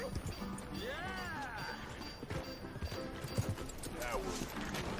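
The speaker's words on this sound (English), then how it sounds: "Alright, calm down, horsey." A horse in the Red Dead Redemption 2 video game whinnies with rising and falling neighs, its hooves clip-clopping steadily beneath, with game ambience and someone talking over it.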